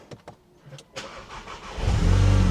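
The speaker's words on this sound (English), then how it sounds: "Now that the car started up" A Volkswagen Golf GTI engine cranks over after a few quiet clicks and catches near the end, settling into a loud, steady, close-up idle rumble with no voices.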